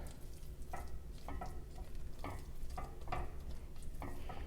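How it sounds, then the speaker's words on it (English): Butter melting in a pan and stirred with a small spatula, giving a soft low sizzle and repeated light scrapes in a steady rhythm, close and fairly quiet. "as our butter is melting, let's go ahead and stir this"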